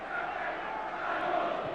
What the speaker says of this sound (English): the extended applause you're hearing is in celebration of Ricky Fuller's career as a Stoke player